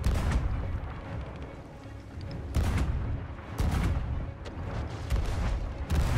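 Ship cannons firing during a naval battle in Sea of Thieves, several heavy booms spaced a second or so apart with rumbling tails, fairly loud over the game's ambient sea noise.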